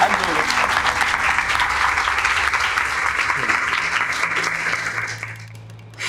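Students at a UPSC coaching class applaud a new software innovation with loud, sustained clapping from a full room, holding steady for about five seconds before fading out.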